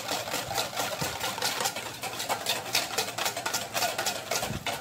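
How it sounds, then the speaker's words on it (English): A whisk beats a cosmetic emulsion in a bowl, giving a rapid, steady rhythmic clatter and swish that continues evenly throughout at moderate loudness. "now we will just create the emulsion by whisking"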